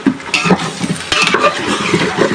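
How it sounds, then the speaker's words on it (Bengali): A spoon scrapes and clatters loudly in a pan as spices are stir-fried with snakehead fish and bottle gourd, with a continuous sizzle under the close, busy stirring. "মশলা আর মাছ একসাথে করে কষায় নিছি"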